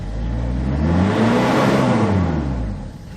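A single loud rev from a 2004 Hyundai Porter diesel with a manual gearbox: a close engine drone rises smoothly in pitch, peaks, then eases back down toward idle.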